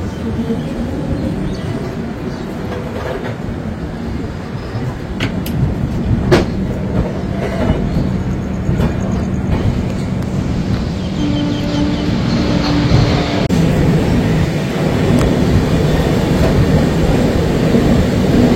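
Heard from on board on a rainy morning, the Guwahati Garib Rath Express rolls along with a constant loud rumble, rattling carriages and faint rhythmic wheel clacks, and a brief tonal hum partway through.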